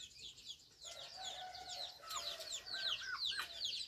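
Chickens cluck and squawk in a busy, overlapping chorus of short calls, fairly near and continuous, with no clear talk over them.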